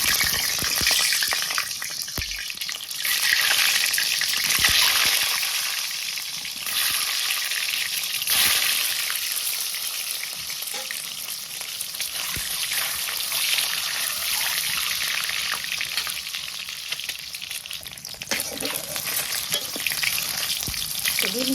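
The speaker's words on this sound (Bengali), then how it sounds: "তেল তো তাপ হয়ে গেছে ডিম দিয়ে দিলাম" An egg frying in hot oil in a wok gives a steady, loud sizzle and crackle throughout, with occasional stirring scrapes and brief bursts of spatter.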